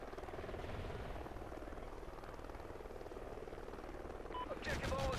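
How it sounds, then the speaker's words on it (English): A helicopter in a military shooter game, its steady rotor thump droning continuously at moderate volume, joined by a brief higher electronic tone near the end. "Friendly helo pilot active."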